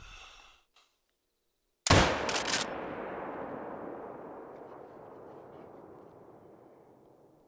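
A .44 caliber rifle shot fired while hunting mule deer in Mexico cracks out sharply and loud, its echo rolling away across open country and fading slowly over several seconds, after a short stretch of quiet.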